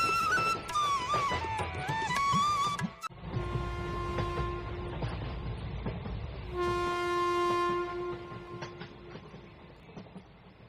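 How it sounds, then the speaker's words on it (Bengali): A train pulls into a station platform at night, with loud sustained horn blasts over a heavy rumble and rattling carriages, close and filling the scene. "পুরো সাতটার সময় ট্রেনটা এলো"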